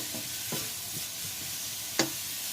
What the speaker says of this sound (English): it's starting to sizzle pretty good now